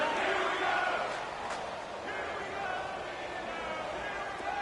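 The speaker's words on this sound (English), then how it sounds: "the crowd getting into it as we come up on a big 3rd down" A stadium crowd in an American football video game roars steadily in the background ahead of a big third down, with a commentator talking over it throughout.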